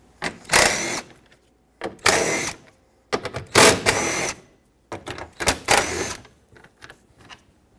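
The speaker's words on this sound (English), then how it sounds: "there are four 10mm bolts that we have to remove to get this cover to come off of the radiator support" Bolts coming out of the radiator support cover on a 2013–2018 Hyundai Santa Fe: a series of loud, short mechanical whirring bursts with quiet gaps between them, close up and with no voices.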